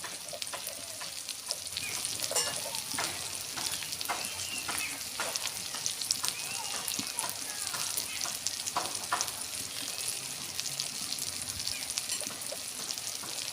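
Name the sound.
onions frying in a pan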